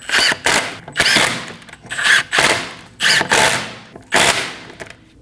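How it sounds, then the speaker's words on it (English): A pneumatic impact gun snugs down the rear wheel lug studs on a 2012-2022 Volkswagen Passat during a brake job, firing five loud, close bursts of rattling hammering separated by short pauses. "Snug them down with a gun."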